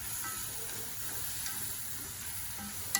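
Mushrooms fry on a Big Green Egg grill, giving a soft continuous sizzle that stays faint and even, with a tiny tap at the end.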